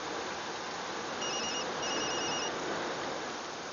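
A mobile phone rings with a short pair of thin electronic tones, fairly faint over a steady wash of background noise in an airport, with no talking.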